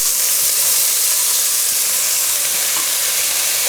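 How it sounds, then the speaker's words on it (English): Onions sizzle and fry steadily in a hot pan for slow-cooked lamb with rosemary and garlic, a loud continuous hiss with no talking. "Now we can go straight in with the onions."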